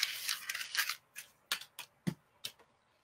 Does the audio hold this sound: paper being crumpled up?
yes